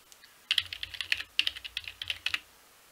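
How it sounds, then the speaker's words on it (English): Keys clatter on a computer keyboard in two quick bursts of crisp, close clicks with a short pause between, the typing alone and clearly heard. "if I type in fun, hit tab"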